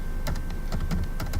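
Python code being typed on a computer keyboard, with a handful of separate key clicks tapping out in an uneven rhythm at close range, over a low background hum.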